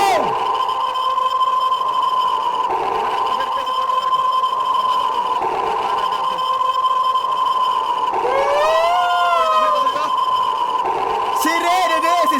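Wailing sirens in the horror video game Fears to Fathom: Scratch Creek, loud continuous electronic tones that hold steady and then sweep up and down near the end.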